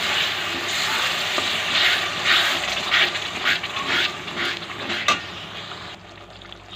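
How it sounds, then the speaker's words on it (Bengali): Ground cumin and chili powder sizzling and being stirred in a pan with a splash of water while preparing prawn malai curry, a steady hiss with scraping and clinks of utensil against metal, close and continuous. "সামান্য মশলার বাটিটা ধোয়া জল দিয়ে মশলাটাকে ভালো মতো কষিয়ে নেব"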